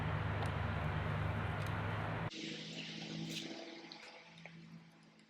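Water runs into an above-ground pool after a sand filter conversion, a steady rushing gush that cuts off abruptly and gives way to a quieter trickle and splashing.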